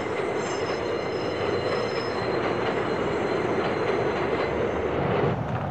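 Subway train rolling along the rails with steady, loud wheel squeal and continuous rumble, close by and unbroken throughout, with no voices.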